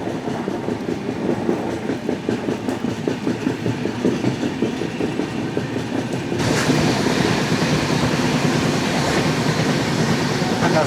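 The Hubballi-Hyderabad Express, a former South Western Railway train, rolls along the rails with a steady rumble and rhythmic clickety-clack, growing louder and harsher partway through, with no voices.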